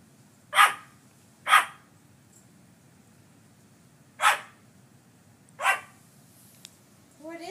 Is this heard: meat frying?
no